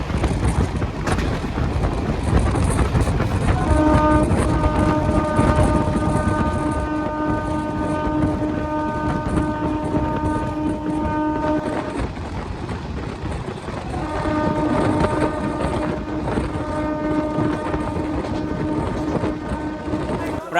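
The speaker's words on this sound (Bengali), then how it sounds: "দেখো পরপর সব লোকাল ট্রেন দাঁড়িয়ে আছে" Local trains wait at Sealdah railway station in Kolkata as long, sustained train horn blasts sound twice over a busy, rumbling platform, with voices chattering throughout.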